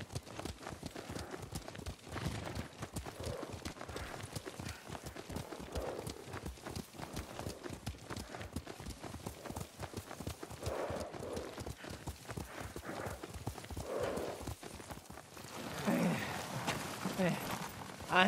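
Horse hooves beat a steady, fast clip-clop during a ride in the video game Ghost of Tsushima, continuous and close, with an occasional whinny and voices in the background.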